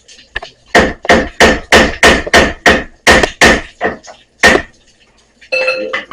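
A hammer strikes metal on the rear suspension of a 2007 Dodge Charger: a rapid run of about ten loud, ringing blows in even rhythm, a pause, then a final clank and a brief metallic scrape.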